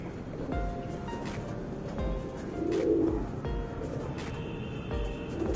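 A male pigeon offered for sale coos repeatedly nearby in a rhythmic series of low, soft, throaty calls, with harmonic-rich notes and brief background clatter between them.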